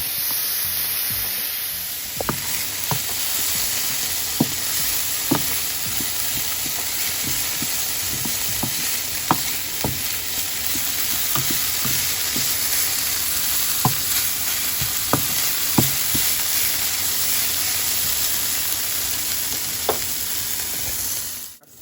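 Turkey bacon sizzles steadily in a pan for a loaded grits bowl, a constant close frying hiss broken by frequent short scrapes and clicks of stirring, with no talking.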